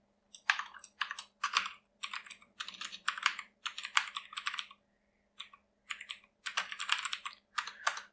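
Code is typed on a computer keyboard in quick bursts of close, crisp key clicks separated by short pauses, with a faint steady hum beneath and no speech.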